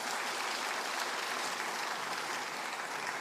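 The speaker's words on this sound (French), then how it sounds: "On peut les applaudir." A church congregation at a Sunday baptism service claps together in a steady, even burst of applause that fills the room for a few seconds, with no voices over it.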